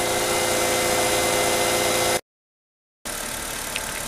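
A cold Mercedes W211 car engine idles with a steady, even hum and mechanical whir, broken by a brief gap of silence before the idle resumes slightly quieter.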